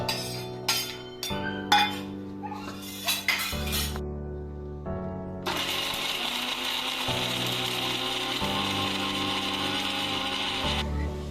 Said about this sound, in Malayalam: ഇതിന് തന്നെ നമുക്ക് ഈ ചക്കക്കുരു മിക്സിയുടെ ജാറിൽ ഇട്ട് കൊടുത്ത് നമുക്കൊന്ന് അരച്ചെടുക്കാം